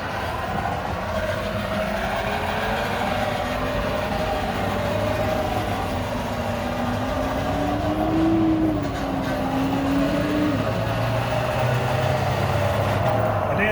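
A 1/16 scale RC crawler with a two-speed gearbox and an added sound unit runs at full power, making a steady, continuous electronic engine drone whose pitch rises and falls.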